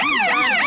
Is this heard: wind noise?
no